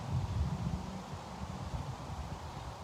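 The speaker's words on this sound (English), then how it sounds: "How beautiful the trees sway in the wind." Steady wind through trees on an open field, with a soft, continuous rustle of leaves and low gusty rumble, no voices, constant and moderately quiet throughout.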